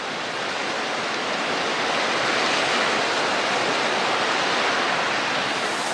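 A mountain stream rushes over rocks in a steady, dense roar of flowing water that stays loud and unbroken throughout, with no voices.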